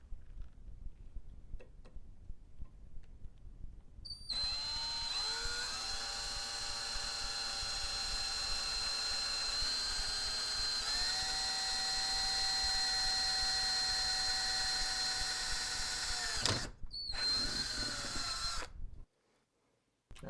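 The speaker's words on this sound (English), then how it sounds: "drill right in the center." An electric drill whirs steadily for about fifteen seconds, drilling a pilot hole to install a Benelli/Stoeger oversized bolt release, its whine shifting pitch as it bites in, then stops abruptly after a brief rev.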